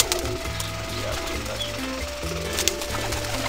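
Pigeons coo in low, repeating warbling notes from a rooftop loft setup of high-flying birds, steady and close under a faint background hum.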